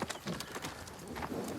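Horse hooves clip-clopping in a Western setting, a quick uneven run of hoofbeats at moderate distance with a faint whinny-like texture and outdoor ambience.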